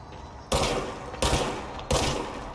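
Three bursts of video game gunfire from Control, each a sharp loud blast with a short ringing tail, spaced roughly evenly apart, with no speech over them.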